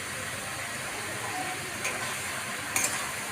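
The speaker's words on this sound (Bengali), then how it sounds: "এবার শুকনো করে এটাকে ভালো করে নাড়তে হবে" Bottle gourd with chopped tomato stirred in a pan, a steady close sizzle and hiss with two brief scraping clinks, no talk.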